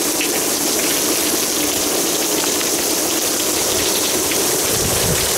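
Heavy rain pours down steadily in Florida during summer hurricane season, a loud, dense, continuous hiss of drops hitting surfaces with no break and no talking.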